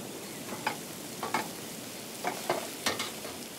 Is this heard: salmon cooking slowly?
yes